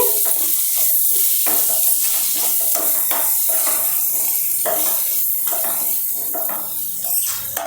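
Spices being stirred into a brinjal and coconut fry in a pan, a continuous soft sizzle with repeated scraping and clinking of the spoon, close by with no talk.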